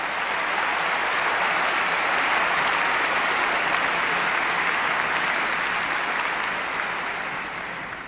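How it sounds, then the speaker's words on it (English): A large conference audience of students claps in sustained, loud, dense applause that holds steady throughout and eases slightly toward the end. "let's give a round of applause for all the students who are here."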